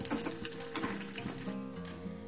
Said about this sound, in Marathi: आता आपल्याला ही जी उपवासाची पुरी आहे ही छान अशी तळून घ्यायची आहे